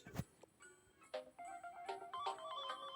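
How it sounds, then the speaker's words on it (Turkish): A mobile phone rings with a bright melodic ringtone, a series of repeated electronic tones in a steady pattern, moderately loud and near, with no talking. "Ay telefonum çalıyor bir dakika."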